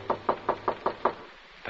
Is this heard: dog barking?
no